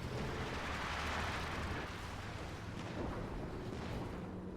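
A strafing run by air support in Company of Heroes 2, a distant, continuous rumble of gunfire and blasts that rolls on steadily and fairly faintly, with no speech.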